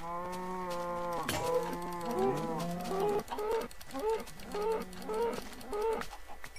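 A cow in the Minecraft-style game TedyCraft moos in a long, loud drawn-out call, followed by several shorter, rhythmic game-animal sounds, with no talking.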